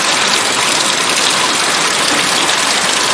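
Rainwater pours steadily into a 5-gallon bucket, a dense, continuous rushing splash that stays loud and close for the whole stretch with no voices.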